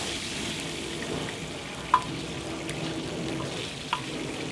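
Wild turkey cutlets on a FIREDISC cooker, a quiet steady frying sizzle throughout with a couple of small clicks.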